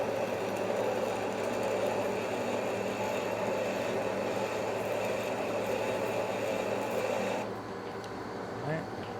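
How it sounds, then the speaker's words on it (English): A lathe cuts a thread on a new steel piston rod for an A.D. Baker steam traction engine, making a continuous buzzing, whirring machining drone that eases off near the end. "So let's get cutting thread."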